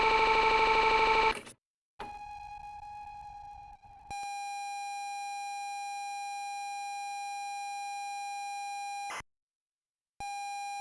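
A computer data tape loading signal: a buzzy modulated burst gives way to a steady pilot tone, then a long high steady tone that breaks into a brief silence before the tone resumes.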